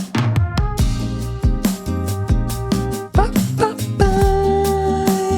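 A layered horn section of four stacked tracks plays together in a pop soul arrangement, loud sustained chords with punchy rhythmic stabs and a full low end, no voices.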